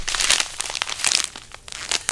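Plastic zipper pouch from a survival kit crinkles and rustles continuously up close, with crisp crackly bursts throughout and no voices.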